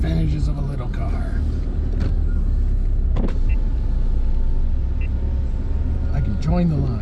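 A small car idles and creeps forward in a queue of traffic waiting to view Christmas lights, its engine a steady close low rumble throughout, with a few faint clicks and a brief squeak near the end.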